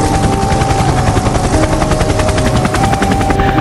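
Private helicopter flying, its rapid rotor chop steady and loud for a few seconds, close overhead with a constant thudding pulse and no voices.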